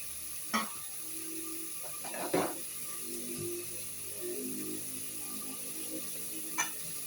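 Green chillies sautéed in a pan for basmati fried rice give off a faint, steady sizzle, broken by a few sharp scrapes and clinks of the spoon against the pan.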